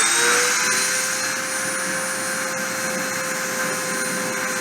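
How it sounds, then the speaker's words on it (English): Deposition machine spindle spinning up, a loud, steady motorized whine with a high tonal hum that holds constant and close throughout, with no voices. "I'm going to start the spindle and start the deposition"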